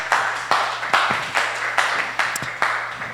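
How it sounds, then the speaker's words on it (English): An audience at a 1 Million Cups entrepreneur gathering in Rockford claps in a steady, evenly spaced rhythm, with sharp beats sounding close and moderately loud. "If you give them a round of applause."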